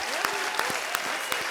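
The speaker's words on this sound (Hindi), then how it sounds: "तो जोरदार तालियां।" Steady applause from a studio audience at a comedy show, a dense wash of clapping with a few louder single claps popping out near the front, continuing evenly throughout the short stretch.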